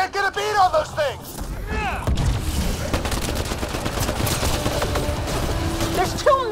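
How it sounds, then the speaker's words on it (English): Gunfire in the game Mass Effect Andromeda, rapid overlapping automatic bursts that pound steadily for several seconds, loud and close, after voices shout in the opening moments. "Just keep firing! We can do this!"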